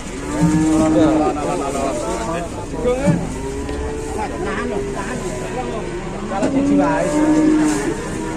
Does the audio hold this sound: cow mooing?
yes